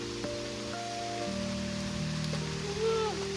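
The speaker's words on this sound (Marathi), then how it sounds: "खूप पाऊस आलेला आहे." A constant hiss of heavy first-of-season rain pouring down outdoors, with a few faint tonal hums and whines running underneath.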